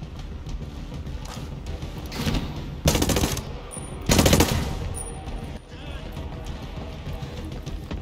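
Automatic gunfire rattles in the video game Ghost Recon Breakpoint, coming in several loud bursts of rapid shots among steady game ambience, while a player talks.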